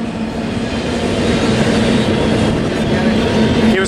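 A KCS freight train locomotive rumbles past at speed, a loud, continuous roar with a steady hum and faint wheel clatter, close by, with no talking.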